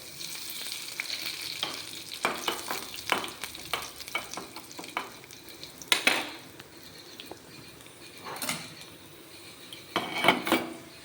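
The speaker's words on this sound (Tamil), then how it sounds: "எண்ணெய் காஞ்சிருச்சு, கடுகு உளுத்தம்பருப்பு போட்டுக்கலாம்." Mustard seeds, urad dal, shallots and curry leaves tempering in hot oil for a coconut-free chutney base: a crackling sizzle with bursts of spluttering and several sharp clinks of a spoon against the pan.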